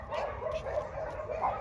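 A young puppy with paralysed hind legs, excited and happy, gives a quick run of short, high yips and whimpery barks, close by and fairly soft against low background noise.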